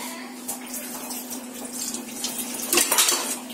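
Tap water runs over round-sliced onions being rinsed by hand in a kitchen sink, a continuous close splashing and gurgling stream that gets louder and busier near the end.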